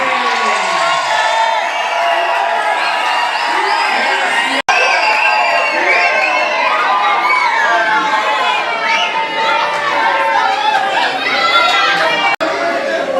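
Wedding guests cheer and applaud a man's entrance, a dense crowd roar of whoops, shouts and chatter that runs steadily throughout.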